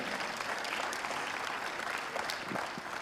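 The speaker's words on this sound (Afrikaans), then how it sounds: "So gee vir jouself weer 'n lekker hande klap." Steady applause from the congregation at an evening church service, a dense, even wash of hand claps filling the room for the whole stretch.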